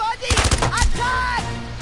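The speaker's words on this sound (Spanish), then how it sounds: "le entró ese disparo" Gunfire in the video game Jagged Alliance BIA rings out as a quick burst of sharp shots, with a brief background voice.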